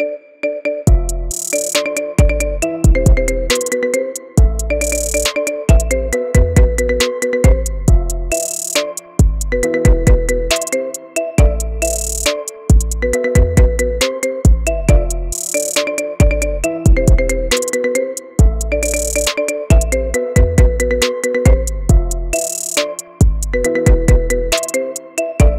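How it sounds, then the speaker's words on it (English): Marimba remix of a song, made as an iPhone ringtone: bright, loud, struck mallet notes in a steady repeating rhythmic pattern with deep bass hits, playing continuously with no voices. "Get this cool ringtone for your phone now."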